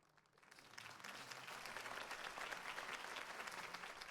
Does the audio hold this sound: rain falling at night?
no